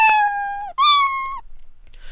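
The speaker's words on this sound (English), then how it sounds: "I'll select the cat sound here, meow" A cartoonish Scratch cat meow plays twice in close succession, the second version pitch-shifted higher, each a clean drawn-out tone, followed by a short quiet tail.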